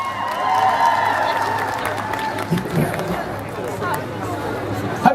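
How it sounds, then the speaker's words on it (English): Audience applause at a live charity fan event, a sustained round of clapping mixed with crowd chatter and some cheering, voices audible over the hands. "This is the hardest working man in the room, ladies and gentlemen, right here. Round of applause."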